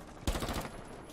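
A brief burst of gunfire from a gun in Rainbow Six Siege, a sharp opening shot followed by a quick run of rapid rounds, loud and close, then a fading tail.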